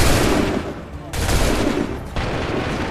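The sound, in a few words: gunfire ordered by the player in a video game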